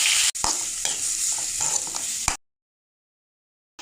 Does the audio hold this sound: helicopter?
no